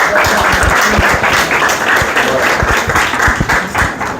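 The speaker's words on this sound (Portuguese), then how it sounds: "Uma salva de palmas pro Pedrinho e Pedrão." Applause from a live class audience for two people, Pedrinho and Pedrão: dense, steady clapping from many hands, loud and close, sustained throughout with no break.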